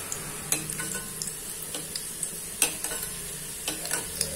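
Karanji pastries deep-frying in ghee give a close, steady crackling sizzle, with sharp pops and bubbling bursts breaking through every half second or so.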